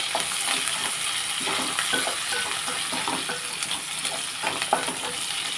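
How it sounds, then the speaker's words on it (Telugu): Tempering (popu) for semiya upma sizzles in a pan, a steady dense crackle with small pops and occasional stirring scrapes, no voices. "ఇదిగోండి పోపు"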